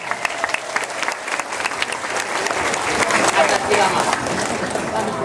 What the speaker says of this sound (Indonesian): Tepuk tangan buat Dai Asep.